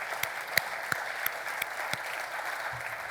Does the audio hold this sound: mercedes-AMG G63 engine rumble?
no